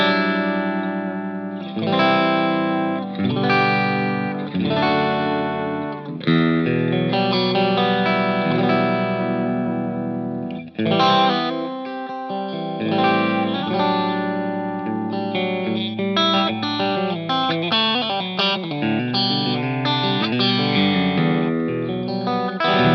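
Clean electric guitar notes and chords through a BluGuitar Amp1 ring out with a touch of shimmer and reverb, played alone in loose phrases with short pauses.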